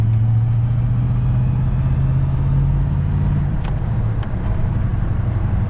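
Steady engine drone with road noise from an LS1 V8 Nissan GU Patrol with headers driving along, a constant low hum throughout and no talking.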